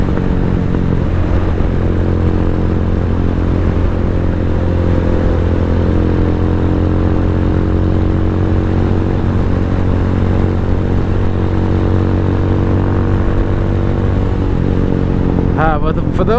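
Venom X22R motorcycle riding at night, a steady, loud engine drone with a constant low hum and wind noise throughout, a rider talking over it.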